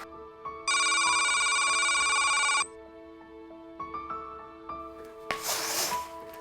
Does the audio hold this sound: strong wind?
no